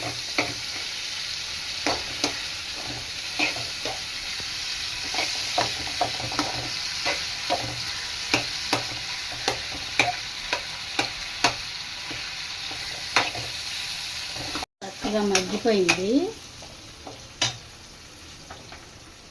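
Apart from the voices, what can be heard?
tomatoes frying in a pan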